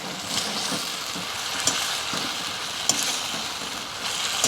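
Chicken pieces frying in oil for restaurant-style Chicken 65, a steady hiss of sizzling with occasional sharp metal taps from stirring, fairly close and without speech.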